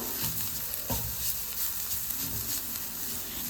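A masala mixture with chopped coriander is stirred as it sizzles in a pan, producing a faint, steady frying hiss broken by soft spoon scrapes, with no talking.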